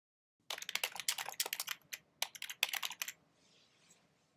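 Quick bursts of typing on a computer keyboard while coding, close clacking keystrokes in rapid runs with brief gaps, stopping after about three seconds, with no talking.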